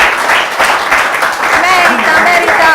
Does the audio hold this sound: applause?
yes